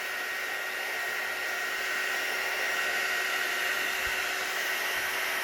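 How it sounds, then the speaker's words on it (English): A small craft heat gun blows hot air in a steady, even whoosh like a hair dryer, close and continuous with no talking. "It doesn't take long, and this doesn't get very hot, so this is just a craft heat gun."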